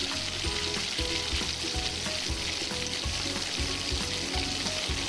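Mustard seeds, garlic and curry leaves fry in hot oil for a Telugu-style ivy gourd fry, giving a loud, continuous close sizzle and crackle, with no talking.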